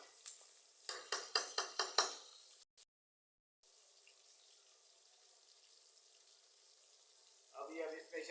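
Ingredients for chicken macaroni frying in a pan, a run of quick sizzling bursts up front, a sudden cut to silence, then a faint steady hiss and a fresh crackle near the end.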